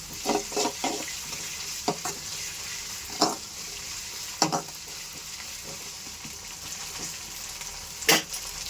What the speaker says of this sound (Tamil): இஞ்சி பூண்டு போடலாங்க. பூண்டு போட்டு நல்லா வதக்கிட்டு